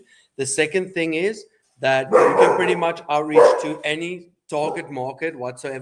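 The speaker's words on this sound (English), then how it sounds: "Sorry about the dogs." Dogs bark and whimper in the background while someone speaks steadily in the foreground, the yips and barks surfacing between and under his words at moderate volume.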